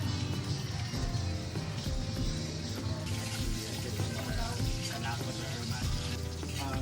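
Garlic sautéing in a pan for creamy nachos, a steady loud sizzle and frying hiss running throughout without pause.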